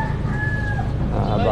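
A chicken at a vendor's stall in a Talipapa wet market crows in a drawn-out, fairly loud call over a steady background of market bustle.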